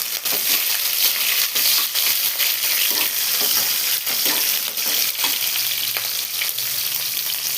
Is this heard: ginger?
yes